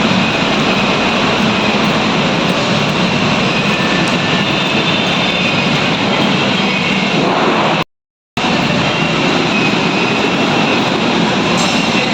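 A Manila MRT metro train rumbles loudly and continuously, a dense roar of wheels and motion with a brief cut to silence partway through.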